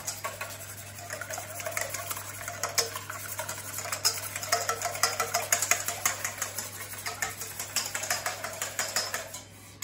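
Rapid, rhythmic clicking and tapping of a whisk beating an egg in a bowl, steady and close, with no talking.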